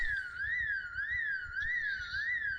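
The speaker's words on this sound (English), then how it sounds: "when the house alarm goes off" A house alarm in the video game Project Zomboid wails in a steady rising-and-falling electronic siren pattern, cycling regularly about every half second over a low pulsing hum.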